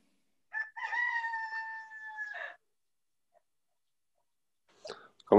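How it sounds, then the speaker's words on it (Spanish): A rooster crows once nearby, a drawn-out cock-a-doodle-doo heard fairly faint and clear, followed by silence and a brief burst of other sound at the end. "Ese gallo se va a hacer famoso en nuestras sesiones."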